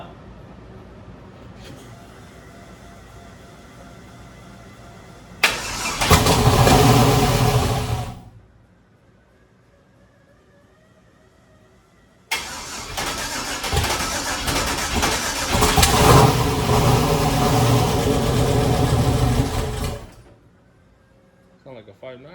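A twin-turbo 6.0-litre LS V8 swapped into an S10 pickup truck cranks and fires loudly for a couple of seconds, falls quiet, then restarts and runs roughly for about eight seconds close by, with faint voices in the background.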